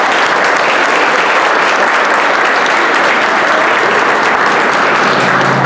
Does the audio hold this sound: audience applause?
yes